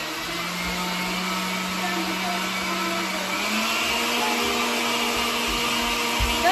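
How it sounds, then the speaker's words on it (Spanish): A kitchen blender runs steadily, a close whirring motor drone whose pitch steps up partway through, heard alone without talk. "La licuadora"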